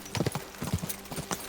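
Horse hooves clip-clop at a steady riding pace in Kingdom Come: Deliverance II, with the horse named Pebbles under its rider; the footfalls come close and clear, in irregular bursts with no talking over them.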